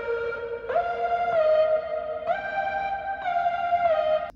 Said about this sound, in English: So it's that same bell melody from before, right? But now it sounds like this.